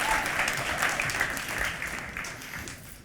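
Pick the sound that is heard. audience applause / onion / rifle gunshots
audience applause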